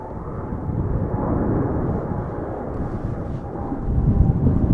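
KLM airliner departing Schiphol for Delhi, a continuous rumbling jet roar with heavy low-end that swells slightly toward the end, sounding somewhat like distant thunder.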